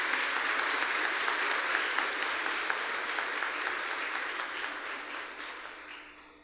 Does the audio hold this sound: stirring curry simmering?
no